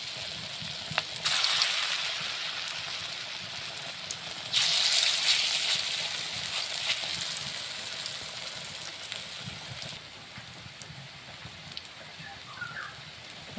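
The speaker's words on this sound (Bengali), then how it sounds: "তেলটা গরম হলে বড়াটা দিয়ে দেবো" Pumpkin flower fritters fry in hot oil, a dense continuous sizzle like heavy rain that surges louder twice as more batter goes in, then slowly settles, with no speech over it.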